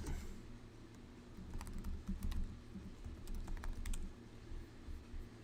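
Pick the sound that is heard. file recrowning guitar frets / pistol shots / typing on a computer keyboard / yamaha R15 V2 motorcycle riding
typing on a computer keyboard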